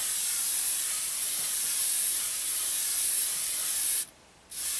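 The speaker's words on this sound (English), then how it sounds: "Great thing about airbrushing is a little paint goes a hell of a long way." An airbrush sprays paint for a custom camo finish on airsoft gear, giving a close, loud, continuous hiss that cuts out briefly near the end and then resumes, with no talking.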